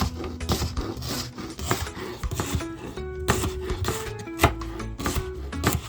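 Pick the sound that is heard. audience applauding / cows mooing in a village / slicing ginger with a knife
slicing ginger with a knife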